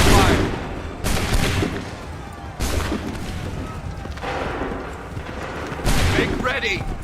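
A volley of musket gunfire in Assassin's Creed 3 Remastered, several loud booming discharges in irregular succession, each fading into rumble, with shouted voices mixed in.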